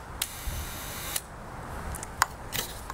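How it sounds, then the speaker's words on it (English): A large format camera used for wet-plate collodion photography makes its shutter click: a few small, sharp clicks over a steady background hiss. "then I'm just going to trigger the shutter"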